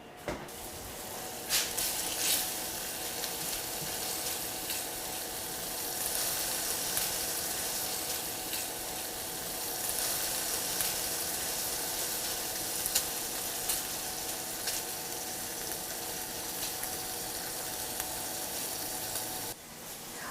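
Bacon sizzles steadily in a pan for the whole stretch, a dense, even hiss of frying fat with small crackles, fairly close and with no talking.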